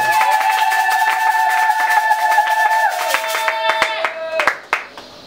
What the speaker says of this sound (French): Est-ce qu'on peut acclamer pour les mamans d'accord?